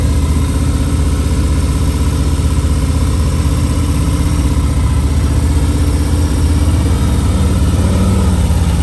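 Motorcycle engine at Daytona Bike Week, rumbling at low speed during slow tight-lock riding maneuvers with small throttle blips, loud and continuous throughout.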